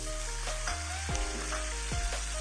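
Spice paste for Aceh beef rendang hitting hot oil in a pan, a dense steady close sizzle with a few faint taps and stirs.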